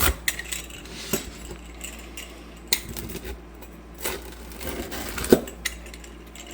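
A cutter slices through a Roman-style Margherita pizza on a hard surface, giving several sharp clicks and scrapes. The sounds are spaced irregularly over a low background hum, with a stronger knock near the end.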